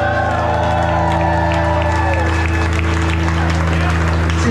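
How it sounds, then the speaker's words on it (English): At a concert in a club, the crowd applauds and cheers in a loud, steady wash of clapping and whoops beneath a sustained ringing tone from the stage. "I want to hear a nice big loud applause for Whitey."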